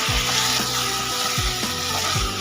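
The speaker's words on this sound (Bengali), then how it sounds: "আরো 3-4 মিনিটের জন্য কষিয়ে নেব।" Pieces of pointed gourd (potol) sizzle steadily in hot oil in a pan, a soft continuous hiss with a few light stirring bumps, close and alone without talk.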